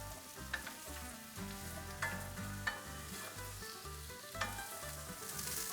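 Onions and peppers sizzle and stir in hot olive oil in a pot for a venison chili, with a steady frying hiss and spoon scrapes that rise and fall, close up and with no talking.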